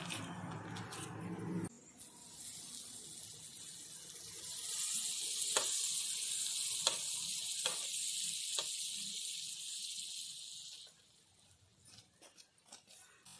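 Paneer paratha sizzling in Amul butter on a hot pan, a steady bright frying hiss that swells in and holds for several seconds, with a few scrapes of turning, close up and without talk.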